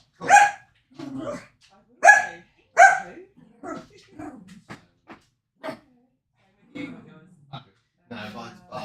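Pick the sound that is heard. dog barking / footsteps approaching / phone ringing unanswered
dog barking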